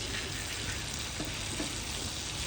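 Garlic and coriander tadka sizzling steadily in hot oil in a pan for molokhia, a dense, continuous frying hiss with a few faint stir clicks, no voices.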